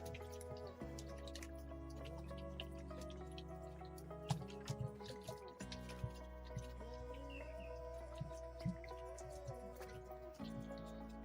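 Water trickles and drips onto a freshly planted seedling in a greenhouse, soft and close, with faint bird chirps and a low music bed underneath.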